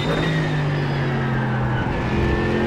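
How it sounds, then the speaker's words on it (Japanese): Race car engine on the rough Sebring track in the iRacing sim, a steady loud drone with tonal whine that shifts slightly in pitch as it runs, with no talk. "再びコースインして先ほどとの変化を感じながら走行します"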